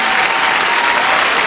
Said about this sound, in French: Eloïcha, faut l'applaudir parce qu'elle s'est battue